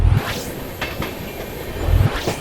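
The 12706 Secunderabad-Guntur Intercity Superfast train pulls out of Dornakal Junction, heard from on board as loud, steady rolling with rhythmic wheel clacks over rail joints and a continuous hum underneath.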